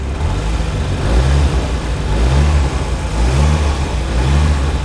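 Fiat Uno Turbo engine running close up, a steady loud drone with repeated rises in revs roughly every second, the note swelling and easing in a regular rhythm with no voices.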